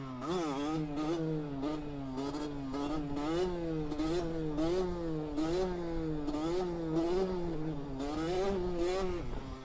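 A 50cc-125cc motorcycle rides a wheelie in first gear, its engine droning loud and near in a steady, wavering buzz. The pitch rises and falls repeatedly as the throttle is worked, and there is no talk.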